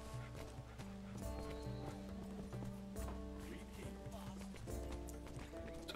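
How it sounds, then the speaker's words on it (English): A horse monster gallops in the Robin Hood: Builders of Sherwood video game, with rhythmic hoofbeats and a whinny over game music while someone talks. "So this is the horse monster."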